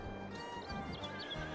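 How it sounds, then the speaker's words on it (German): Horses on a farm in Farming Simulator 22 give a couple of short whinnies over faint clip-clopping hooves, moderately quiet and heard alone without speech. "Guck, wir haben hier schon wieder ein paar Pferde drin."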